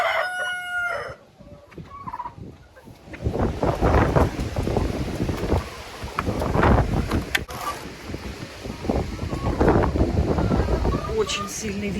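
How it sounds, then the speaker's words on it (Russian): Strong wind blows outside a chicken coop as a steady rushing roar, with a rooster crowing near the start and hens clucking throughout while a person talks. "Очень сильный ветер на улице."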